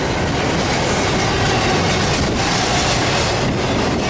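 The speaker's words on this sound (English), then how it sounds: "Yeah, so it looks like it's a Q train to me." An intermodal freight train with mid-train DPUs rolls steadily past at Daggett, a loud, continuous broadband rumble with faint wheel clatter throughout and no voices.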